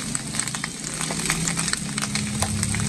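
Mushrooms sizzling in a pan with onion and garlic for a lengua mushroom sauce, a steady close crackling fry with light stirring and no talk.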